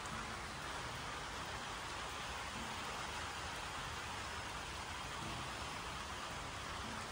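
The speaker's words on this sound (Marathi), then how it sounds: "रात्रीपासून जी पाऊस चालू झाला आहे" Continuous overnight monsoon rain falling steadily outdoors in rural Maharashtra, a dense, even hiss that stays constant and fairly soft throughout, with no voices.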